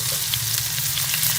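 Onion frying with cumin in cooking oil in a kadai makes a brief, steady, close sizzle with faint crackles.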